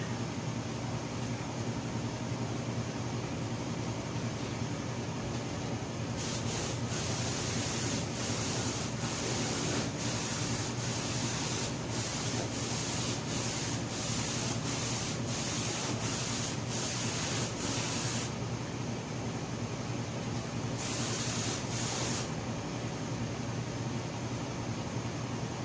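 Water spraying in bursts while the paint on a 1966 Ford F100 pickup is wet sanded by hand, with steady rubbing and sanding underneath and loud hissing sprays repeating close by.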